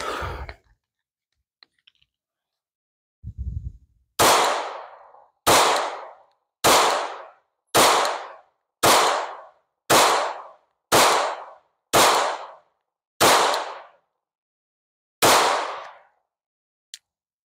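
Gunfire from a handgun fitted with a Dove Dot red dot sight near the end of a 1,000-round torture test, ten loud single shots at roughly one-second intervals with echoing decay, preceded by faint handling clicks.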